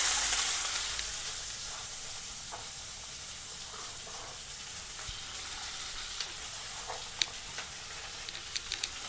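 A large chopped onion dropped into hot oil with already crackled spices sizzles loudly at first and then settles into a steady hiss, with occasional stirring clicks and spatters and no voices.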